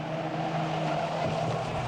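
Race car skidding across the finish line at a small oval raceway, a steady, loud engine drone with tire scrub running the whole two seconds, no voices.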